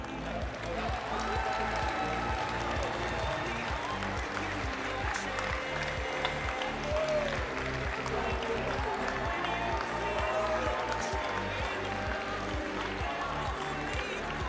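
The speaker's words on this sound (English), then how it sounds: "Let's clap." Audience applause at a FIRST robotics championship division awards ceremony, a steady, dense wash of clapping that fills the whole stretch at an even, sustained loudness, with a faint murmur of crowd underneath.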